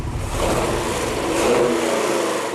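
A Nissan 240 fitted with an LS engine revs hard on a dyno, a loud, sustained engine roar that holds steady throughout before easing slightly at the end.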